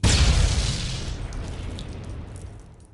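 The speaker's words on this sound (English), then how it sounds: "Hand grenade? Yes. No, take the pin out first, you moron. Kaboom." A hand grenade goes off in a game with a single loud, close boom. Heavy low rumble decays slowly over about three seconds, and no one speaks over it.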